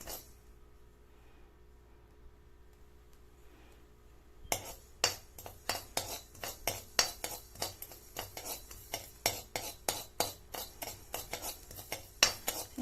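Whole spices for rasam powder, including mustard seeds, dry roasting in a pan. A quiet start gives way to a steady run of sharp, rhythmic metallic scrapes and clinks as a utensil stirs them, close and clear.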